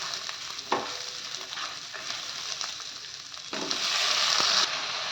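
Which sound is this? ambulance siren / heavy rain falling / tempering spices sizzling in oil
tempering spices sizzling in oil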